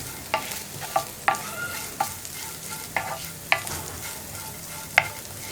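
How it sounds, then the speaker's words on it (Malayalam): A spoon stirs grated coconut and turmeric frying in a pan. Sharp scraping clicks come at a steady, uneven rhythm over a soft continuous sizzle. "ഇനി മഞ്ഞൾപ്പൊടിയുടെ ആ റോ ടേസ്റ്റ് മാറി വരുന്നത് വരെ ഒന്ന് ഇളക്കി കൊടുക്കുക."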